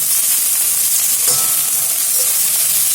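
Macaroni and instant noodles stir-fry in a pan with a loud, constant frying hiss throughout, a small clink or scrape near the middle.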